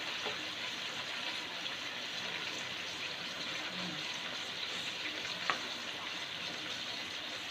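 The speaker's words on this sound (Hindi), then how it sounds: "अब चिकन ऐड कर लें और इसको वाइट होने तक फ्राई करें।" Chicken pieces fry in oil in a pan for nihari, giving a steady, even sizzle that stays constant throughout, with one small clink of a utensil and no voices.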